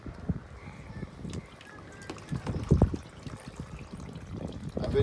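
Water poured by hand onto a potted plant trickles and splashes softly in uneven bursts, fairly close, with light handling noise and no talking.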